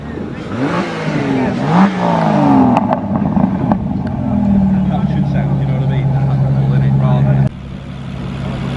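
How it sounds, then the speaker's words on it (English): An Aston Martin DBS engine revs at a classic car show, rising and falling through a few loud throttle blips before settling into a steady idle, with people talking nearby. "DBS is doing a few revolutions."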